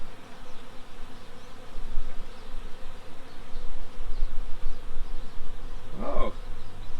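Dense, agitated buzzing of many angry honeybees at the hive fills the air steadily, close and continuous, with one bee passing loudly near the end.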